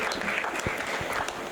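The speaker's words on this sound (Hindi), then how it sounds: "चलिए कमलेश यादव जी के लिए एक बार जोरदार ताली भाई" Audience at a Hindi poetry gathering breaks into a short burst of dense clapping, close and loud, with a voice briefly heard beneath it.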